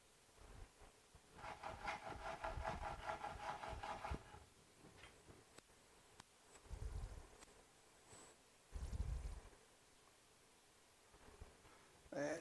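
Steel sharpened on an inexpensive 600-grit diamond sharpening stone, heard as faint, close gritty rasping strokes that come in a few separate bursts with quiet gaps between them.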